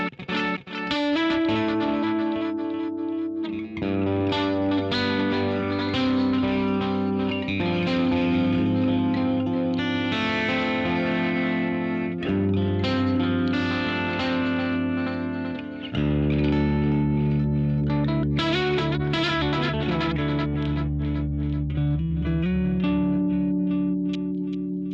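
An electric guitar plays through a Chase Bliss Habit pedal set as a weird digital delay, loud sustained chords with smeared, repeating echoes layered over each other, no voice.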